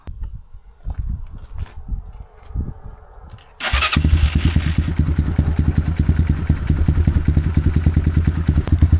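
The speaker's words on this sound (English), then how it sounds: "Now it says to let the bike run for 2 to 3 minutes and then check the oil." A 2021 SSR 189 motorcycle after an oil change: faint handling and clicks, then the engine fires abruptly and settles into a loud, steady, rapidly pulsing idle close to the mic.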